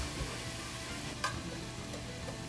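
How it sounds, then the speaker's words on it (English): Food sizzling in a pan on a gas stove, a gentle steady crackling hiss with a brief clink of a utensil, close by and with no talking. "you're gonna hear a nice, gentle sizzle. Hear that?"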